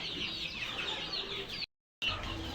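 A flock of Sonali and desi chickens cluck and chatter together, a steady close murmur of fowl broken by a brief silent gap.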